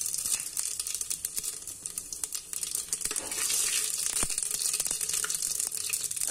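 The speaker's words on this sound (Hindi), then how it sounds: "अब हम इसमें जीरा डालते हैं।" Cumin seeds dropped into hot oil for dahi baingan crackle and sizzle, a dense bright hiss that surges louder midway and carries on steadily with small pops.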